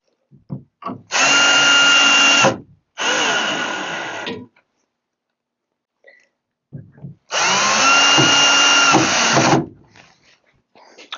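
A screw gun drives screws in a workshop in two long whining bursts, then a pause, then another long burst, loud and close, with small knocks and handling noises between runs.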